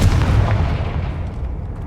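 The Confringo fire spell blasts in Hogwarts Legacy as one heavy, booming explosion that rolls and fades over a couple of seconds, loud and close with no voices.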